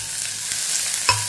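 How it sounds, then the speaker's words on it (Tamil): Sizzling and crackling of chopped onion and garlic frying in a pan, with a brief stirring scrape near the end; no talking. "இதை வந்து நல்லா வதக்கிடுவோம்"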